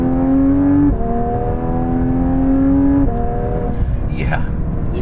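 A Porsche 992 GT3 Touring with a 4.5-litre naturally aspirated flat-six revs hard through the gears, its loud rising engine whine dropping at two upshifts, with talk inside the cabin over the engine.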